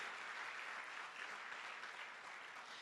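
A church congregation applauds the Lord during a Sunday family celebration service, a steady, even wash of many hands clapping at once, faint and distant, with no voices standing out.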